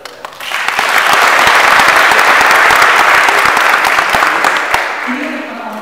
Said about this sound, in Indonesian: Coba dikalian tepuk tangan